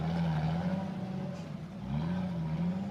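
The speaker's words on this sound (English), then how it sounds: "I hear car number 2 coming through the woods. He's making a lot of noise." An off-road race car at an Ultra4 event coming through woods, its engine droning steadily and loudly with a rising pitch in the second half, continuous and fairly near.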